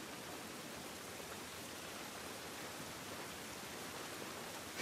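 Steady, even hiss of rain falling in the video game The Last of Us Part I, soft and continuous with no voices.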